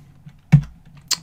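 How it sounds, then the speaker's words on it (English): Two sharp computer keyboard keystrokes typing a debugger command, a firmer tap followed half a second later by a lighter click, close and isolated in a quiet room. "what I'm going to type instead of typing step is step I"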